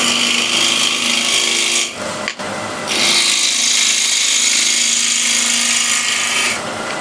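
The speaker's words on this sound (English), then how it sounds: "Still using spindle gouge." A spindle gouge cuts a wooden bowl spinning on a lathe, shaping an ogee wall in a steady, loud scraping hiss that drops away briefly in the middle before resuming.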